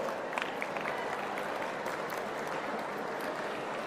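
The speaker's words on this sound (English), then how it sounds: "a huge cheer for the student community over here" Crowd of students at the inauguration of a quantum technology hub cheers and claps in a steady, dense wash of applause, fairly loud and even throughout with no clear talk on top.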